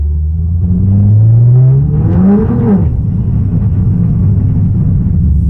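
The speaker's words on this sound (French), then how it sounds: "mettre le moteur en suralimentation" Nissan GTR on the road at rush hour with its engine boosting, a loud near rumble whose pitch climbs steadily and then settles into a low steady roar.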